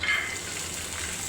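Onion, chili, garlic and ginger paste with salt fry in oil, making a soft, even sizzle that is quiet and brief.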